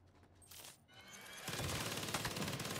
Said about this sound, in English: Fucking minigun.